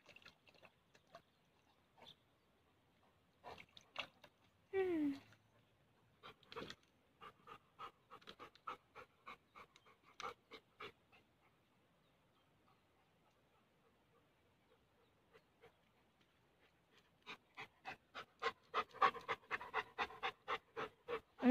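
A dog pants in quick rhythmic bursts, close by, pausing for a few seconds midway before resuming faster and louder.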